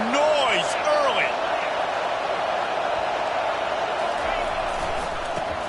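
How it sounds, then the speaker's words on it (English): A football stadium crowd makes a steady, loud, unbroken roar. A few rising whistle-like tones sound near the start. "This crowd bringing the energy and noise early."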